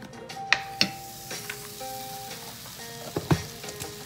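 Butter sizzling and crackling in a hot pan for Asian pepper steak, with a soft steady hiss and a few sharp pops scattered through, close by and fairly quiet.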